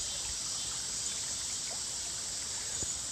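The Paint Rock River in Alabama flows past with a soft, steady trickling hiss, faint and continuous, with no voices or other sounds breaking through.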